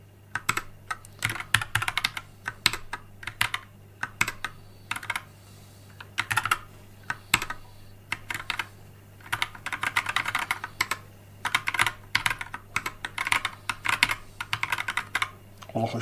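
Typing on a Kraken Pro 60% compact computer keyboard: dense bursts of crisp key clicks in quick uneven runs, close and clear, with short pauses between bursts and a steady low hum underneath.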